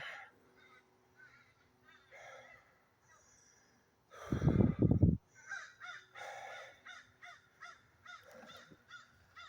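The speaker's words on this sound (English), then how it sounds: "I love crows." Several crows cawing in a series of harsh calls, fairly close, with one loud burst midway followed by repeated rhythmic caws and faint background voices.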